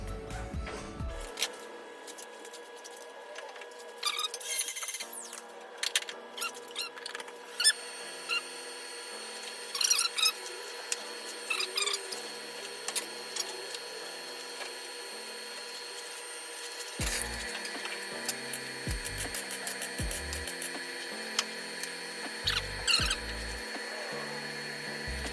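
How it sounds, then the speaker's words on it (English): A MIG welder welding car sheet metal on a restoration project, heard as crackling, sputtering bursts that start and stop in irregular runs, close and fairly loud, with no talk. "Get in there with a MIG welder and just"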